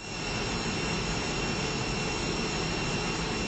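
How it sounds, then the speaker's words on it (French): Air France Airbus jet engines on night approach to Marseille airport, a steady, loud broadband roar that holds constant throughout with no voices. "l'Airbus d'Air France entame son approche sur l'aéroport de Marseille"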